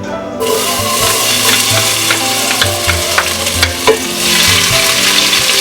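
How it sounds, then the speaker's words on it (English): Chopped garlic sizzling in olive oil in a pot over medium heat, a loud, steady frying hiss up close with occasional clicks and knocks of stirring. "We're gonna put some olive oil in the pot over medium heat. We're gonna add some chopped garlic."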